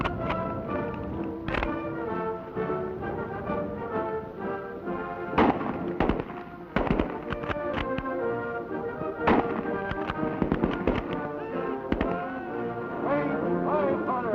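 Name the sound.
Springfield rifle gunfire by Marines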